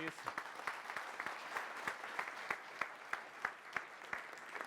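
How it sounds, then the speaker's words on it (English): A small audience at a quantum technology event in Helsinki gives a speaker a round of applause: distinct, fairly sparse claps with audible individual hand strikes, quiet and somewhat distant, no voices over it. "Let's give him a round of applause"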